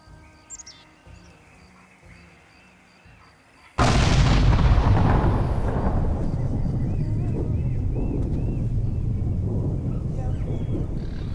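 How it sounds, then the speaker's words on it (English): Far Cry 2 game explosion: a sudden loud boom cuts in after quiet ambient sound with faint bird chirps, then a dense, sustained roaring rumble continues to the end. "Explosion!"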